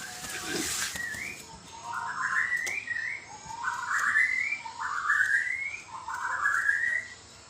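A bird gives a series of rising whistled chirps, about five in a row, moderately loud and slightly distant, with faint background noise.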